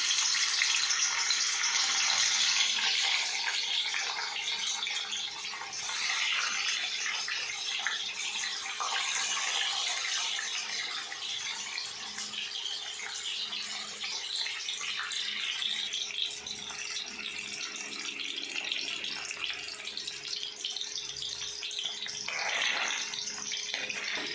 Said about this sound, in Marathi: तेलामध्ये पनीर तळण्यासाठी टाकूया।